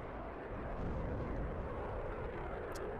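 A bomber aircraft flies in a wartime strategy video game, a continuous low roaring engine drone at steady, fairly quiet level with no talk over it.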